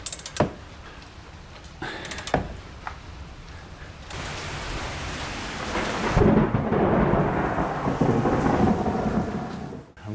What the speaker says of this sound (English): I've got a severe thunderstorm starting here